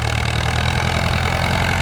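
A Ford 6660 tractor's six-cylinder diesel engine idles steadily with a low, rumbling throb, close and unchanging.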